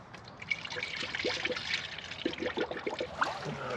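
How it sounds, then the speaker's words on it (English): Coolant trickles and gurgles steadily into the engine of a 2004–2006 Dodge Sprinter van after a water pump replacement, a quiet close-up pour with small irregular splashes and no talking. "let's go ahead and fill it up with coolant and make sure we don't have any silly leaks"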